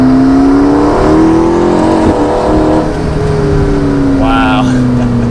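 A 2015 McLaren 650S Spider accelerating hard, its engine roaring loud and close with a rising, continuous drone that shifts pitch briefly as it pulls, heard from inside the car.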